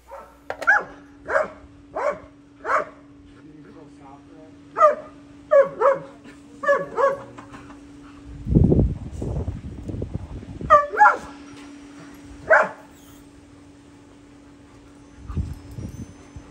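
Dogs at home before grooming bark in sharp repeated bursts, some close and loud, with yips and whimpers between them and a steady hum underneath.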